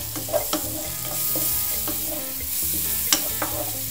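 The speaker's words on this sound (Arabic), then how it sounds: "نخليوه ايضا يتقلل واحد المده ديال دقيقتين مع الفلفل الحار" Hot chili peppers frying in a pan, a steady hiss of sizzling oil with scattered pops and light stirring scrapes, close and continuous.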